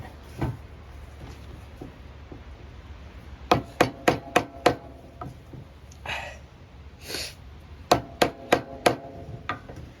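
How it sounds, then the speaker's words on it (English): A mallet drives a chisel into wood while a walking stick is carved, with a few isolated knocks followed by two clusters of rapid, sharp, close strikes. "we're going to give it enough good hits that it sinks that chisel in pretty well"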